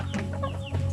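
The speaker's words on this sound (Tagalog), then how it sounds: "yung ginagamit ko na bagong tandang ito sa Shamu Asil, oh" A Shamo Asil rooster gives short, throaty clucks close by, a quick run of calls with no voices over it.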